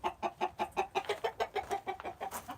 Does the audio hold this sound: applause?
no